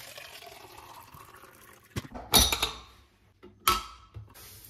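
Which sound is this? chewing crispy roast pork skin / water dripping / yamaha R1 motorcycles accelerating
water dripping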